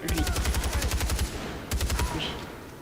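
In Far Cry 4, a long burst of rapid automatic gunfire rattles loudly with a steady fast rhythm, breaks off for a moment, then a second shorter burst follows before fading, with in-game ambience beneath.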